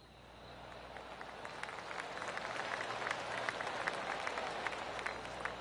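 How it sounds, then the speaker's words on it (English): Golf crowd clapping around the course in PGA Tour 2K golf gameplay, a soft continuous patter of applause from a distant gallery that swells gradually and holds steady. "I can hear the golf claps around the course."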